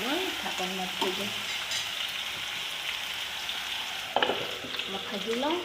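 Chicken pieces frying in a pan on a home stove, giving a steady, close hiss and sizzle with brief spits and crackles, plus a few clinks of utensils; no one speaks.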